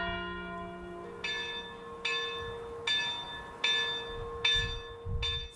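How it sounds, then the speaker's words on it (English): A church bell at St. Bridget's, a Gothic-style church in Castleknock, strikes six times at a steady, fairly quick pace, each ringing tone overlapping the lingering hum of the last. "The other bell has a higher pitch and it's rung much faster, and we call it the hurry up bell."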